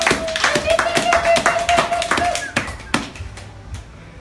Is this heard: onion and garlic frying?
no